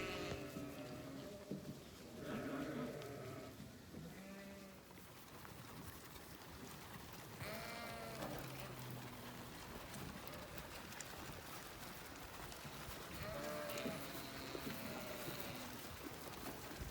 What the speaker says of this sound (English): We feed our lactating ewes a pound of pellets per day.